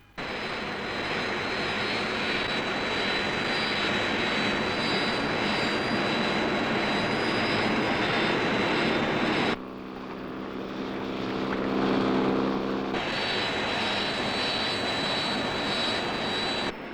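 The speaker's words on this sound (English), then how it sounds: "Search aircraft launched, sir." A search aircraft launches and flies in a Thunderbirds episode, giving a steady, loud engine roar that drops briefly and swells again, with no talk over it.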